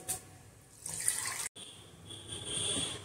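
Water poured into a buttermilk potato curry, a splashing, gurgling pour that stops abruptly midway, then resumes as a softer steady trickle, close and fairly quiet.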